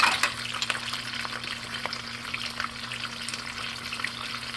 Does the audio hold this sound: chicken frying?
yes